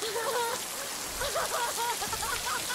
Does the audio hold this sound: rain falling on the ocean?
yes